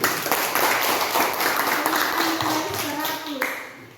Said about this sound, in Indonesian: berikan aplaus kepada Erik